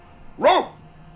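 A single deep dog bark rings out once, short and fairly close, then fades into quiet background hiss during a tabletop role-play session.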